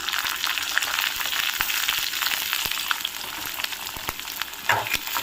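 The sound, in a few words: cumin and green chillies frying in a pan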